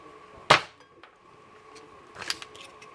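Nerf Triad dart blaster with a replaced spring firing a foam dart into a wall, one sharp close snap followed by a quieter clatter a couple of seconds later, otherwise quiet.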